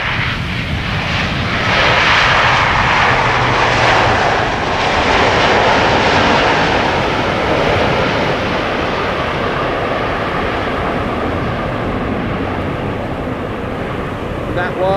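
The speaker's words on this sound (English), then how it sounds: "That was KLM Flight 622, 777-300ER, having arrived from Atlanta, Georgia." A KLM Boeing 777-300ER airliner arriving at Amsterdam Schiphol Airport after a flight from Atlanta gives off a loud, steady, broadband engine roar that swells and then slowly eases across the whole stretch.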